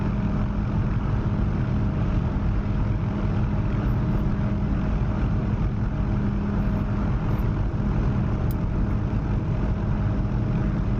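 OH-6 helicopter flying in DCS, a continuous steady drone of engine and rotor with a constant hum, loud and unchanging for the whole stretch, no voices.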